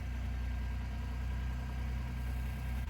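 A kei van's engine idles steadily at close range just after starting, a constant low rumble with no voices.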